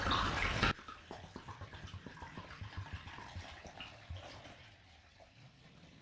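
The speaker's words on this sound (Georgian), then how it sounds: "დავასხათ ეხლა წყალი ესე" Water is poured into a pot holding pieces of turkey for broth. A loud initial gush is followed by a steady, quieter splashing trickle, heard close and alone.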